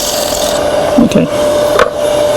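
A wooden bowl spins on a lathe while a tool shapes it, making a loud, continuous close-up rasping and scraping over a steady motor hum, with a couple of brief changes in the cut.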